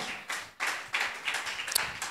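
A church congregation claps during a Sunday worship service, with several short bursts of hand clapping separated by brief pauses, moderately close and lively.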